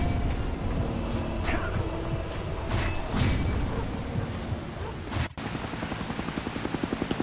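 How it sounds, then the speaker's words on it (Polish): Helicopter in the video game X-Men Origins: Wolverine, a steady rotor whir and engine drone with whooshes and a thud, cut off abruptly into a rhythmic chopping pulse near the end. "Helikopter!"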